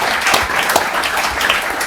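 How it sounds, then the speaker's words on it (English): Brief applause from a conference audience after an industry panel on generative AI at an annual summit, a dense, fairly loud burst of clapping filling the room. "please show your round of applause and appreciation"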